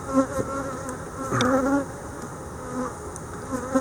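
Honey bees buzzing around an open hive, a close, steady droning hum with overlapping wingbeat tones that swell and fade as individual bees pass by.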